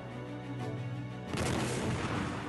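A booming cannon shot bursts out after a low rumbling lead-in, a heavy, close blast of artillery fire from a siege with a rolling tail.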